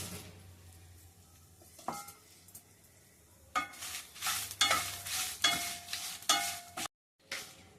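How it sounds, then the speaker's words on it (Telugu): Dried red chillies torn into pieces fry in about half a teaspoon of oil, sizzling softly at first and then growing into louder, busier crackling as they are stirred and tossed in the pan, with a brief dead gap near the end. "కొంచెమే ఆయిల్ ఒక హాఫ్ టీ స్పూన్ తీసుకొని ఎండుమిర్చి వేయించుకోవాలి"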